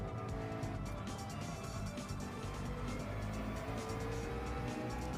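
A race car in Gran Turismo 7 at Suzuka, running with bad suspension and bad aero, hums with a steady engine drone and road noise, continuous and even in level.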